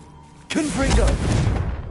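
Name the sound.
Confringo blasting spell cast in Hogwarts Legacy video game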